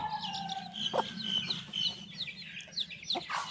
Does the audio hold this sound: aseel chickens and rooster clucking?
yes